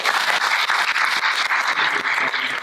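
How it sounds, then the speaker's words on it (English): Applause from an audience at a theater event fills a short stretch, a dense continuous patter of many hands at steady loudness with no speech over it. "Guys, give this group a round of applause."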